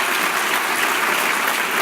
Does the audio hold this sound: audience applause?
yes